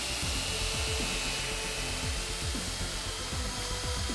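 A small power drill bores a hole through a resin keychain, its high motor whine steady and close, with repeated quick pitch dips each time the bit bites into the resin.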